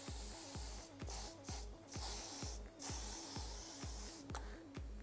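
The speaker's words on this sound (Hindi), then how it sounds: "सो थोड़ा दूर से स्प्रे करेंगे ताकि पूरा प्रॉपर स्प्रेड हो जाए बालों के अंदर" Hairspray is sprayed from a little distance onto curled, styled hair in rapid repeated bursts. The hissing puffs come in a quick, fairly steady rhythm and sound close and loud, with no talking.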